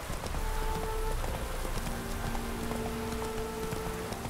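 Steady rain falls across an outdoor scene in Witcher 3, a dense continuous hiss that fills the whole clip, with faint hoof clops and low game music tones underneath.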